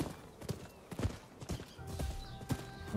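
Horse hoofbeats clip-clop at a steady gallop in the samurai-era game Rise of the Ronin, a rhythmic run of thuds over game ambience with a faint whinny.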